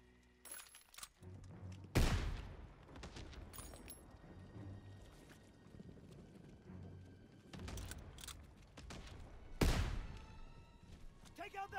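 Enemy machine gun fire in a Call of Duty WW2 battle at Hill 493, with two loud sharp blasts and scattered shots over rumbling combat noise, while soldiers shout beneath.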